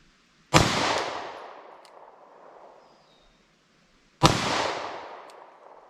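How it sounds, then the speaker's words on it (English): Two loud, sharp 9mm pistol shots about four seconds apart, each cracking hard and then ringing out in a long decaying echo outdoors during a ballistic test. "I'm going to start out with a few rounds of 9mm, our everyman caliber, just to see how the recoil compares"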